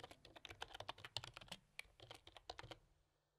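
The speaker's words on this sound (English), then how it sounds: "I'm just going to type in some sample text here." Rapid, irregular clicking of computer keys being typed on a keyboard, close and fairly quiet, in quick bursts that trail off at the end, with no talk.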